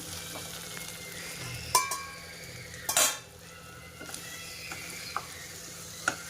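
Pepper chicken dry being stirred in a pan just after the stove is switched off, faint residual sizzle under a few sharp spoon-on-metal scrapes and clinks, no talk.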